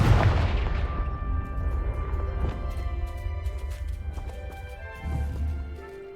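A Confringo fire spell in Hogwarts Legacy bursts with a loud booming blast at the start, then a rumbling decay, with a second lower thump near the end.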